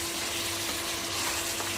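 Beef bhuna frying in a pan as water is poured in and stirred, giving a steady, close hiss and sizzle throughout with no talking.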